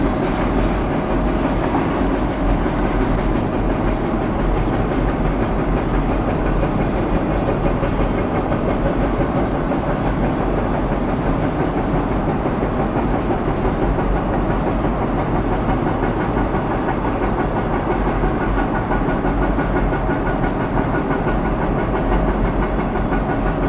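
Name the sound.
Norfolk Southern freight train rolling on the tracks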